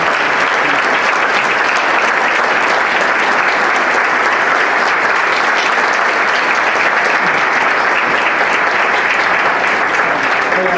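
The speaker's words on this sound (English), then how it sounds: "applause to all our honorary consuls" A conference audience applauds honorary consuls during an opening keynote, with loud, sustained clapping from a large crowd that keeps an even level throughout.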